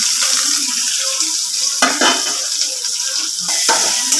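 Curry leaves, ginger and garlic sautéing in a pan for pickle: a steady oily sizzle with occasional scraping stirs from a spoon against the pan, close and continuous, no talking.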